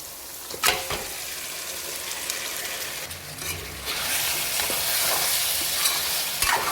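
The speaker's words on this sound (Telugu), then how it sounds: "చేప ముక్కలు వేసిన తర్వాత ఒక టూ టైమ్సే మనకు మంచిగా కలుపుకోవడానికి అయితే అవకాశం ఉంటుంది" Fish pieces frying in hot oil while being stirred, a steady hiss that grows louder partway through, with occasional sharp knocks of the utensil on the pan and no voices.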